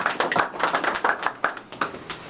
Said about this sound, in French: Nous applaudissons pour notre Seigneur.